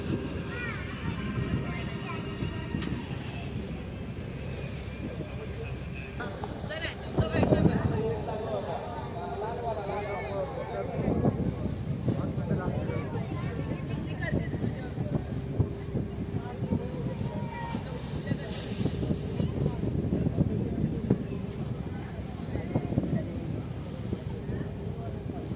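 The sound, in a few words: boat ride from Mandwa port to Mumbai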